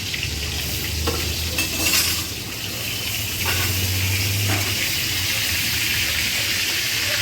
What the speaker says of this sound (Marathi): तेलामध्ये ही स्टफ केलेली वांगी टाकलेली आहे. आधी आपण वांगी फ्राय करून घेणार आहोत.